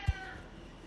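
Rudy the cat gives a single short, faint meow at the start, then only quiet room tone remains.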